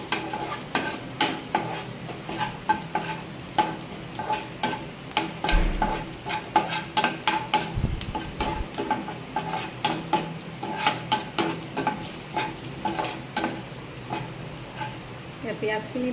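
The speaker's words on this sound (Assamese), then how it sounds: "পিঁয়াজখিনি ভালকৈ ভজা হ'লে মিহিকৈ কুটি থোৱা পিঁয়াজখিনি দিছোঁ।" Finely chopped onions fry in hot oil in a pan while being stirred, a steady sizzle punctuated by rapid repeated scraping and clinking strokes of the spoon, close up throughout.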